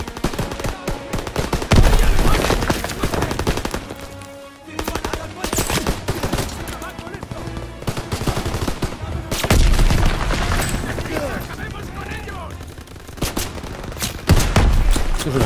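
Dense machine-gun bursts and rifle shots from the Call of Duty: WWII campaign, loud and continuous with booming impacts, while a player speaks Spanish over the fighting.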